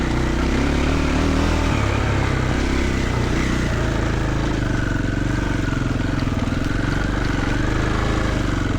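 A Triumph TF450E electric motorcycle's motor whirs steadily and loudly, a continuous hum close by that holds for several seconds with no voices.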